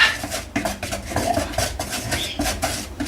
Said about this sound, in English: Right now I'm going to stir the flour and the salt together first.